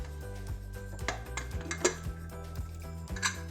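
A pressure cooker holding Kerala-style pepper beef roast is opened, with metal pots and utensils clinking and clattering in several sharp knocks over a steady low hum.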